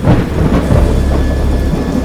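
Rolling thunder from a violent storm at sea, a continuous deep rumble with rain hiss, loud and close, no voices.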